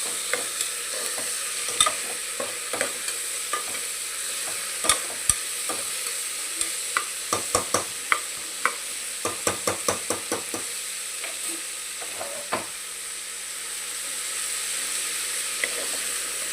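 Spices fry and sizzle in hot oil for vegetable pulao, with a steady broadband sizzle and a run of sharp spoon-against-pan clicks and scrapes from stirring, close and clear with no talk.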